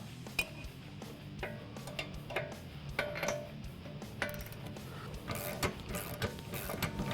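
A wrench ratchets in quick, faint clicking bursts while loosening a bolt on the rear camber mount of a 2015-2023 Ford Mustang, with irregular metallic ticks over a low background.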